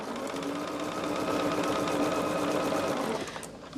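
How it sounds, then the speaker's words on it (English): A sewing machine stitches quilt pieces in one steady, fast whirring run that stops near the end, close and moderately loud, with no talking. "I am going to just turn them around and sew them again"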